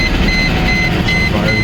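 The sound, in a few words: Mercedes SL500 R129 engine starting up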